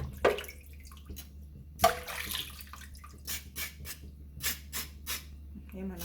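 A scraped carrot rinsed under running tap water gives intermittent close splashing bursts that rise and fade over a low steady background hum.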